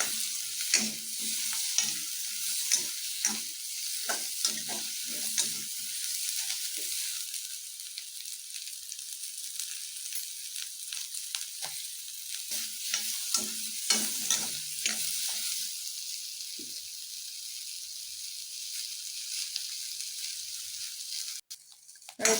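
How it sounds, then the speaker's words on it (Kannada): Onions frying in a pan for Punjabi-style paneer butter masala, a continuous close sizzle broken by repeated scraping and stirring strokes, with no voices. "ಈರುಳ್ಳಿ ಕೆಂಪು ಆಗೋ ತನಕ ಫ್ರೈ ಮಾಡ್ಕೊಳ್ಳಿ"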